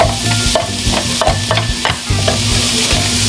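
Onions and shallots seasoned like the rabbit sweat in a hot pan, a loud close steady sizzle with repeated stirring scrapes and knocks.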